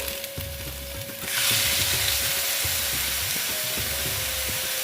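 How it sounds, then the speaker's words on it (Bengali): Pumpkin curry with cumin and coriander powder cooking in a pan just after water is added, a steady hiss that swells and stays loud after a second, with soft stirring knocks underneath and no speech. "দিয়ে একটু নেড়ে চড়ে দিচ্ছি"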